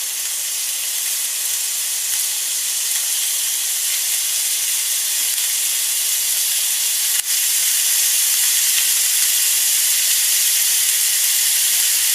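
Ground mince browning in a hot pan for chicken and beef pasta, giving a steady, loud hiss of sizzling fat that runs unbroken throughout, with one brief click partway through.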